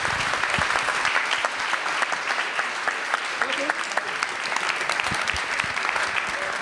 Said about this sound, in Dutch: Dames en heren, warm applaus voor niemand minder dan Mai Spijkers